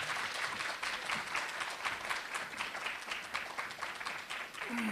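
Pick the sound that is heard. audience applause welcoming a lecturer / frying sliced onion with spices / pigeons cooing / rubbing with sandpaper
audience applause welcoming a lecturer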